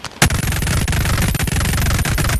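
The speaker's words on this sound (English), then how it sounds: "which is another SMG, and then you fire" Submachine gun from the Helldivers weapon pack fires in Bonelab, a loud, close, sustained burst of rapid automatic shots lasting a couple of seconds without pause.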